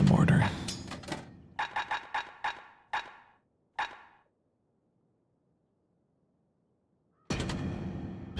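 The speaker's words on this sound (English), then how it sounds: "Let's try the mortar." A mortar fires in the video game Bastion: a burst of sharp blasts followed by a rapid run of separate shots with decaying tails, a few seconds of silence, then a loud dense clatter.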